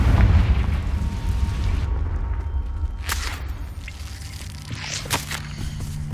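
A Confringo spell explosion in Hogwarts Legacy lands as a heavy, rumbling boom that rolls on for several seconds, with crackling debris and a couple of sharper bursts following, alone and without talk.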